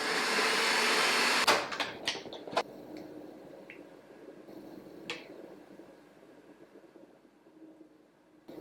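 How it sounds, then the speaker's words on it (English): A blender whirs loudly while blending chipotle lime crema, then cuts off after about a second and a half, leaving a few sharp clicks and knocks over a quiet room. "There's a couple chunks, so I'm going to let it blend"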